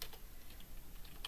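Faint, quick clicks of someone typing a short hex code on a computer keyboard, a few scattered keystrokes over a low background hiss.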